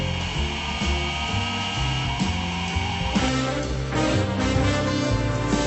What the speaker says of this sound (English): Turbo burrs cut beans consistently in 3 layers and reduce fines